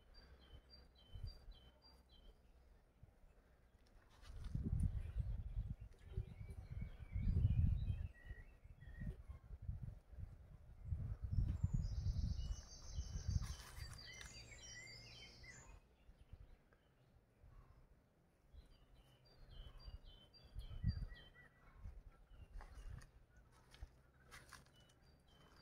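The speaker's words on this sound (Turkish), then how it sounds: "Kuşlar nasıl ötüyor biliyor musun?" Birds calling in a garden outdoors, faint intermittent honking and chirping calls in short bursts, heard among low handling and movement noises, with no talking.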